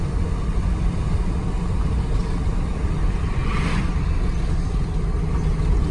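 A restored old camper rolls along with a steady, rumbling engine drone and road noise, heard from inside, slowing as it pulls over.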